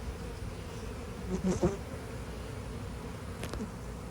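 A large swarm of honey bees that had stayed in a bucket hums in a steady, dense drone up close, with a few light knocks and handling sounds over the buzzing.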